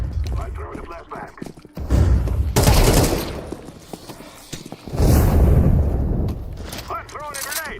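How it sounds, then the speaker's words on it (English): Counter-Strike 2 flashbang grenade thrown in a match, with loud bursts of gunfire-like blasts and booming noise coming in waves amid chaotic game sounds, and voices chattering underneath. "I throw in the flashbang"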